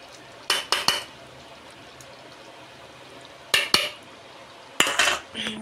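Paneer added to palak in a pan and stirred with a metal spoon: three separate clusters of sharp clinks and scrapes against the pan over a faint background hiss, close and without speech.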